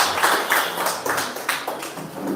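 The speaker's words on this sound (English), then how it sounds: "let's have a huge round of applause for him" An audience applauds a speaker at a webinar on advocacy and legal research, producing a steady, moderately loud wash of clapping hands with rhythmic individual claps standing out.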